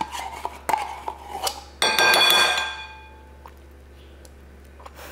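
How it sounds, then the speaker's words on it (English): A metal spoon scrapes and clinks inside a can of leftover condensed milk, in a handful of sharp taps and scrapes followed by one longer ringing clang that fades out. "grab a spoon to get that excess from the can"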